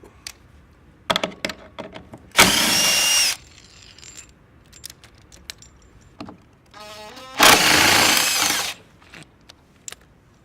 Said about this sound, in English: we're going to remove one bolt from each side that attaches the back to the arm